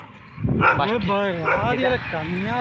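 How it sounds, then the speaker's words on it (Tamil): A dog barks and yips repeatedly at night beside a pilgrimage road on the walk to Palani, close and loud, in quick bursts over about two seconds. "இப்போ இருந்து நாய் குலைக்க ஆரம்பிச்சிருச்சுங்க"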